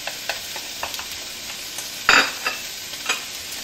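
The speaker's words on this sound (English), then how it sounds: "As I begin to quickly saute my onions and peppers" Onions, peppers and garlic sauteing over high heat in a pan, a steady sizzle broken by scraping stirs and one sharp louder hiss, with no talking.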